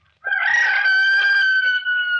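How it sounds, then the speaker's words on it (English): A rooster crows once, loud and close, in a single long drawn-out call that holds steady and then trails off, with no other sounds around it. "below us somewhere a rooster crowed"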